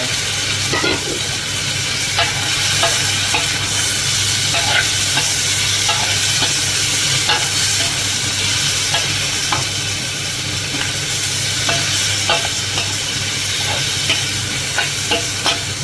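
Pork cartilage stirred in a pot while cooking for a braised cabbage dish, heard as a loud continuous sizzle with frequent clinks and scrapes of the utensil throughout.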